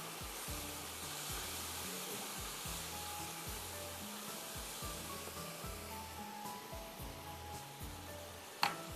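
Sweet corn sizzles in a pan for chicken pulao, a steady frying hiss under a low rhythmic rumble, ending with a sharp clink of a utensil near the end.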